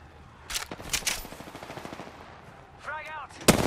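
Gunfire in the video game Apex Legends, short bursts of sharp shots with a few scattered single cracks, moderately loud, over a low game background with a brief electronic warble near the end.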